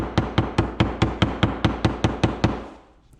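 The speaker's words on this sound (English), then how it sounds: "you take a small hammer, and you don't wanna kill this because it's plastic, and you just tap around" A small hammer taps around a plastic part of a pressure washer under repair, eleven quick evenly spaced knocks close up, then the sound fades out.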